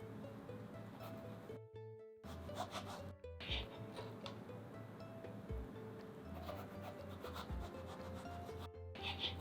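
A knife cuts thin slices from apples for apple rose pastry tarts, making soft, close scraping and rubbing strokes in an uneven rhythm at a quiet level.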